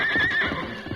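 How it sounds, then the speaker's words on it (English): A buckskin bronc snorts and lets out a shrill neigh, a short, close, loud whinny with breathy noise underneath. "The buckskin bronc snorted his defiance as Curly tightened the saddle girth."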